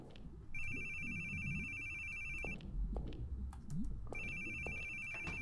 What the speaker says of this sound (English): Is that my phone? How am I getting reception?